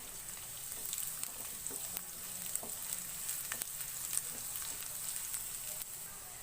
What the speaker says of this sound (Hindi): लहसुन को मैंने हल्का सा फ्राई कर लिया है, फ्लेम मैंने मीडियम ही रखी हुई है।